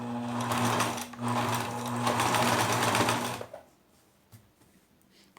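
A sewing machine stitches cotton cord onto a cushion, running in steady whirring bursts with a brief pause. It then stops, leaving faint handling noises.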